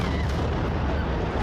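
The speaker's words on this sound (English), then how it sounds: "An explosion in Northwest Portland and the Centennial Mills water tower gone in a second." Controlled demolition charges bring down the Centennial Mills water tower in Northwest Portland, a dense, continuous roar of blast noise filling the whole moment, loud and sustained with no talk.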